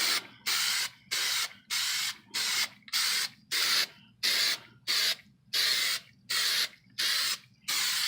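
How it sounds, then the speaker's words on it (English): A spray can lays coating onto homemade Predator armor in about eleven close, even hissing bursts, each roughly half a second long and separated by brief pauses. "This stuff's pretty simple, just like spray paint."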